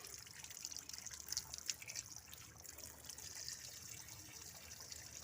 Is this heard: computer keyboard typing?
no